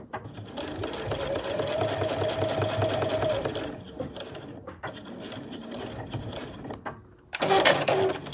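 Sewing machine running a long, steady stitch across a leatherette front panel of a backpack, fairly close and loud, pausing briefly a couple of times before a final short burst.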